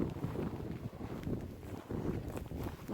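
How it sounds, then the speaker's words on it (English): Strong outdoor wind buffets the microphone near an old homestead, a continuous low roaring rumble that swells and dips in gusts and dominates the whole stretch. "I hope the wind isn't too bad, you guys."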